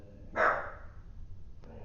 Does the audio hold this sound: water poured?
no